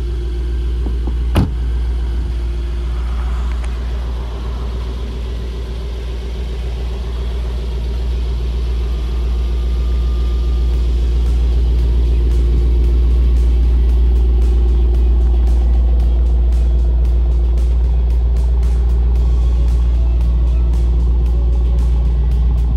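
A 2021 Mercedes-AMG GT63s with a hand-built 4-liter bi-turbo V8 idles steadily, a deep, loud, constant rumble heard up close, with a sharp click near the start.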